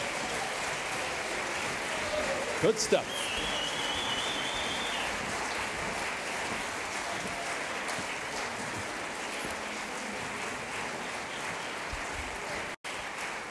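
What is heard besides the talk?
audience applause as chorus walks on stage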